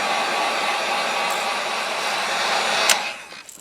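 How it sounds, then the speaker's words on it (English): A heat gun drying base coat paint gives a loud, steady blowing roar up close that holds evenly, then cuts off and fades just before the end. "Let's get a heat gun on this, dry it off, and then we can take our wrap off."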